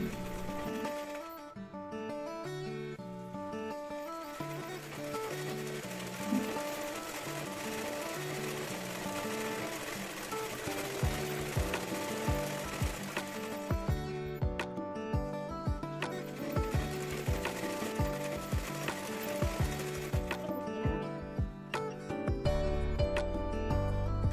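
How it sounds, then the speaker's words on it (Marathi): A sewing machine stitches along the folded edge of a blouse fabric strip, running in a steady rapid mechanical rhythm with short pauses and bursts, close by and fairly quiet, with no talk. "आता कडेने पूर्ण याला शिलाई मारून घ्यायची या पट्टीला"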